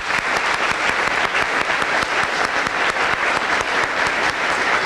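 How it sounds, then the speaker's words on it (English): An audience at a school Grandparents Day event applauds children, with dense, steady clapping from many hands close by for about five seconds and no talking. "Let's give them a round of applause."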